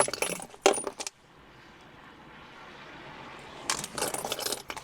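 Metallic jingling of keys in two short bursts, close up, with a quieter stretch of background rumble between them.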